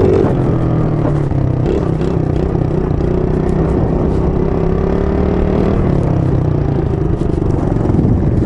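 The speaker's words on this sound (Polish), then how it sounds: "Jakieś auto jedzie." A car drives past nearby, its engine a loud, continuous drone with a slowly shifting pitch and light clatter, with no voices over it.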